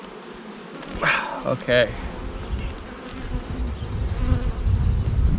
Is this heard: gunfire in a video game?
no